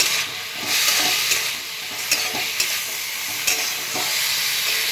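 Vegetarian drumstick-flower mash seasoned with turmeric and salt is stirred in a frying pan under a constant loud sizzle, punctuated by a few distinct spatula taps and scrapes, and no voices are heard.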